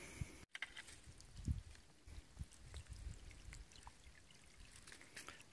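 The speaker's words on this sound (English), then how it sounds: "This is the first usable water source on the trail that I've come across today." A small trail stream trickles at a water source on a winter mountain hike, a faint steady gurgle with scattered soft splashes and drips close by.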